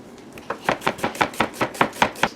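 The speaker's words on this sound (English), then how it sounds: "For the taco salad, I have this giant sweet onion. I'm just going to cut a little bit of this up." A kitchen knife chops a giant sweet onion on a cutting board, producing about ten crisp, regular thuds at a steady rhythm, close and clear with no talk.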